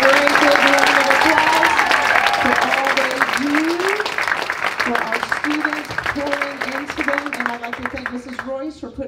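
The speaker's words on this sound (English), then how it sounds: "Let's give them a great round of applause." A school graduation ceremony audience gives sustained applause, dense and loud clapping filling the room and slowly tapering off, while a voice speaks over it.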